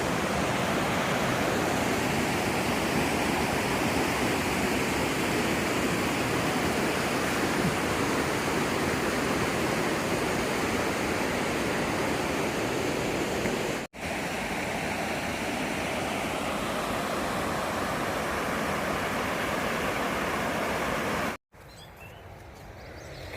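Loud, steady roar of a river rushing through a gorge on the Appalachian Trail, continuous broadband water noise filling the scene with two brief dropouts and no talking.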